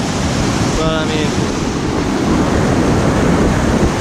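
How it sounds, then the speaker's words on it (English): Water roars at a waterfall on a hiking trail, a loud continuous broadband rush close by, with a brief faint voice near the start barely surfacing above it. "I don't know if you can hear me over the roar of all this water"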